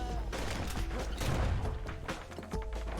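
Gunfire in the Bastion video game: bursts of rapid shots and impacts, dense and continuous over game music and effects, at a moderate level, with no speech.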